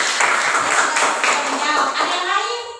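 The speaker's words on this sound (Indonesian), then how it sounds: "Tepuk tangan dulu untuk Aurelius." Classmates clap together for a student in a classroom, a brisk patter of many hands at close range, with a teacher speaking over the clapping.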